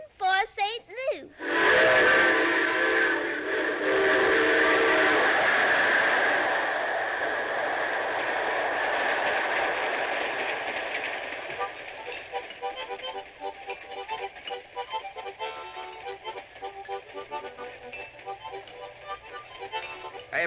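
Train rolling along the rails in an old radio drama, a loud sustained rumble with a whistle-like tone at the start that fades to a steady clatter beneath the scene.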